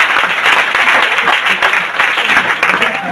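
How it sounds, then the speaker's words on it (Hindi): Loud, dense applause from a seated audience at an indoor training session, many hands clapping continuously and close, with a slight crowd murmur blended in. "जोरदार तालियां"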